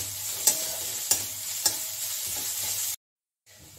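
Chopped onion and grated ginger sizzle together in a pan with a steady hiss, and three sharp spatula taps ring out in turn before the sound cuts off briefly near the end.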